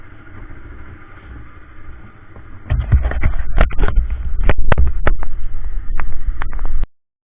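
A Pulsar RS200 motorbike engine starts up and revs in short bursts nearby, loud and uneven, then cuts off abruptly.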